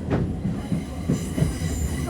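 A UK passenger train travels toward Liverpool Central, with a continuous rumbling rattle of wheels and carriage and faint rhythmic clicks, heard from on board and close.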